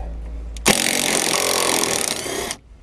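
A power wrench spins off the anti-roll bar link nut under a BMW E36 3 Series, a loud, close buzzing whir lasting about two seconds, starting and stopping abruptly.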